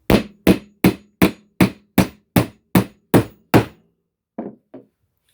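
A hammer drives a nail into wood during hand-tool tote assembly: ten sharp, evenly spaced strikes ring loud and close, then two softer taps follow after a short pause.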